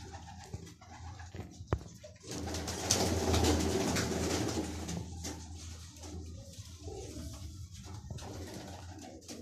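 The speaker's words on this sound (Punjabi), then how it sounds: "ਇਹ ਗੋਲਡਨ ਕਬੂਤਰ ਹੈ" A golden racing pigeon coos close by, soft repeated throaty calls rising over a rustling background, with a brief sharp click early on and a dog faintly audible.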